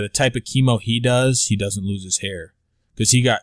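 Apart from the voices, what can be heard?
No everyday noises stand out.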